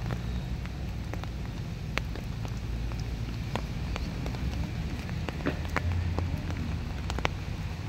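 Rain falls steadily at the Manggahan Floodway in Pasig during a fishing trip, a soft continuous patter with scattered sharper drop ticks over a low rumble, with no talk.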